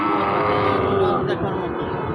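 A loud, drawn-out Sahiwal cow moo close by at a cattle market, low and sustained before trailing off, with faint crowd murmur in the background.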